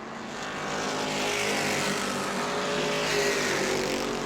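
Race cars roar around the New Smyrna track at a family fun night event, a loud continuous blend of engines building and holding as they pass at a distance, with no talk.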